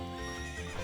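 Horse Epona in a Zelda video game, a short dense burst of hoofbeats and snorting, close and loud with no talk.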